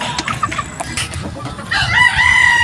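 A gamefowl rooster crows near the microphone, the crow rising and holding in the second half, with scattered clucks and short calls from farm chickens before it.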